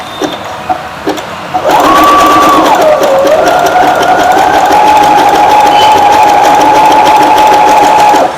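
A Fashion Maker sewing machine fitted with a pico rolled hemming foot starts after a few soft taps and runs steadily, a loud continuous whirring hum with a slight pitch shift as it gets going.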